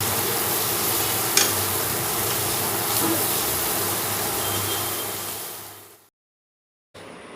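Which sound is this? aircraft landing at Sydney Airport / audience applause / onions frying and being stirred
onions frying and being stirred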